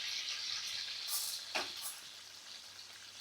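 Chana dal frying in a pan with green chilies for a brinjal chutney makes a faint, steady sizzle, broken by a few light stirring scrapes and a brief splatter.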